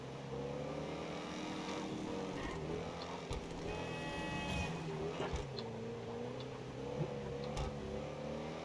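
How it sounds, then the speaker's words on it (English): Exhaust of a Mercedes-AMG GT63S in GTA5 rumbles at idle with rising and falling revs, a low throaty drone under faint background talk. "But yeah, I love the sound of this exhaust."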